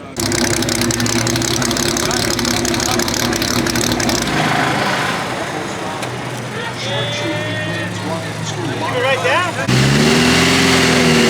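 A Ferrari Dino 206S race car engine idles and revs nearby at a festival of speed, its note rising and falling, with people talking over it and a louder revving burst near the end.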